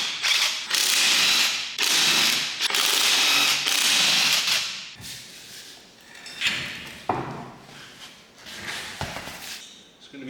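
Ratchet wrench working on lug nuts of a 1975 Toyota FJ40 during restoration, with bursts of loud, rapid clicking separated by short pauses, then quieter, sparser ratcheting and metallic clinks near the end.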